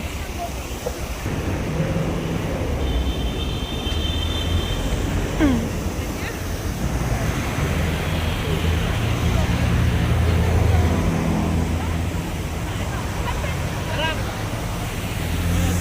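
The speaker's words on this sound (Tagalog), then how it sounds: "Yan ang fountain." A water fountain outside The Peninsula Hotel, a steady broad splashing wash mixed with wind buffeting on the microphone while people talk over it.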